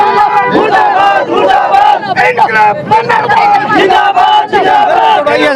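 Striking sanitation workers shout slogans in a loud, rhythmic crowd chant during a standoff with police, with many voices close by in repeated surges and brief pauses between phrases.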